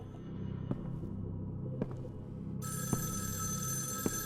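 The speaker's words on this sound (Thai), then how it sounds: "โทรศัพท์เข้า" Telephone in the horror game Evil Inside rings with a bright electronic trill that starts partway through, over a low droning ambience marked by a few dull thuds.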